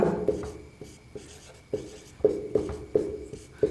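A solution to a class 8 maths problem is written out on a board, with a close, rhythmic series of short scratching strokes and taps and no voice over them.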